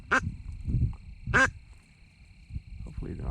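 A large flock of ducks, some of them pintails, descending from high up during a hunt in North Kansas: a few loud honking, quacking calls stand out over a steady background hum, with soft voices between them.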